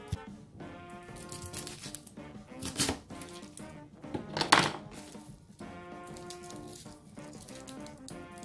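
An onion being cut on a board with a knife, giving soft, irregular taps and thuds over a background of quiet music.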